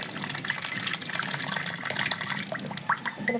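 A little water is poured into frying spices in a pan for a country magur catfish curry, producing a close, continuous splashing gush with some crackle.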